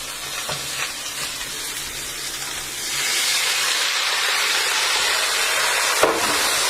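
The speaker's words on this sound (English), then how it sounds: "you can just hear that sizzle. That's helping the vegetables steam." Vegetables for Japanese tofu and udon sizzle and hiss steadily in a hot pan, the crackle swelling louder partway through after water hits, with a faint clink near the end.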